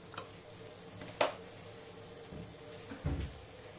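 Butter and oil heat in a pan with a soft, faint sizzle, broken by a few light clinks and taps and a brief rustle near the end, with no talk.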